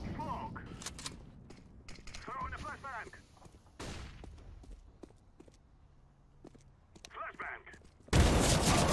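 Weapon fire in the video game CS:GO comes in short sharp bursts and single cracks, some loud and some distant, among clicks and footsteps, with people talking throughout.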